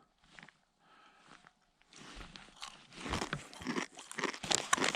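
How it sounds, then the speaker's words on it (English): Someone chews crunchy, chip-like dehydrated snacks on a canoe trip. Faint crinkles come first, then loud, close, rapid crunching bites fill the rest. "they're crunchy. It's not like jerky. They're like chips."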